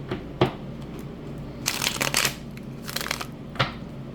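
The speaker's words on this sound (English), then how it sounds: "let's get our tarot cards" Tarot cards being shuffled by hand: a few short riffling bursts, the longest in the middle, separated by quiet gaps and soft card taps, close up with no talking.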